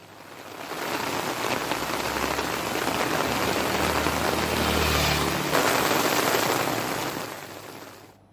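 Heavy rain pours steadily in Nagapattinam, a dense, continuous hiss of drops striking surfaces that swells slightly midway and holds loud and close for the whole stretch, with no voices.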